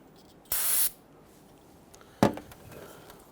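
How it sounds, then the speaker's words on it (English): Solvent sprayed from a can onto a rag to clean a Nissan Quest 3.5L V6 engine surface during knock sensor replacement: one short loud hissing spray burst, then a sharp click and faint rubbing wipe noises. "we can just go ahead and use some spray solvent on a rag and wipe that down"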